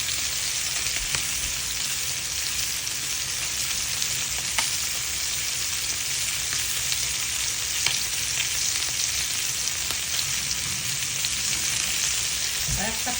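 Panch phoron spices sizzle hard in hot mustard oil, a dense, continuous crackling hiss held close and loud from start to finish with no talking.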